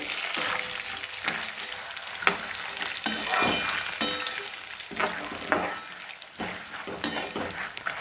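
Dried coconut roasting in hot oil in a pan for chivda, a steady close sizzle and crackle broken by repeated scraping stirs, with no voices.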